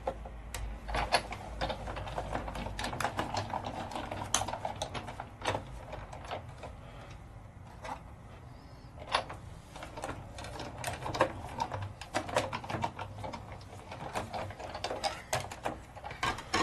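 Die-cutting machine feeding paper and an open frame die with a do not cut plate, giving a continuous mechanical whir with rapid clicking and rattling taps throughout, fairly close and steady.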